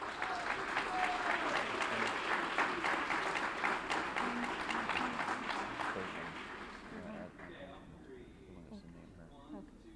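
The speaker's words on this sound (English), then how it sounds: "Let's give him and his coach a round of applause." School board meeting audience clapping for a boys' track coach and athlete, a dense round of applause that fills the room, then tapers off near the end with a few voices and stray claps.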